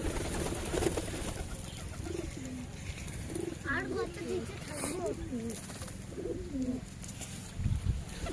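Madras pigeons kept by a hobbyist coo in low, repeated rolling calls, fairly close, over a steady background hum.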